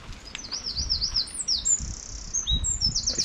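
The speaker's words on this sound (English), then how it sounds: "listen to the birds singing." Several birds sing in a sheltered wooded area, with bright chirps and warbling phrases at moderate distance over a low rumble of wind.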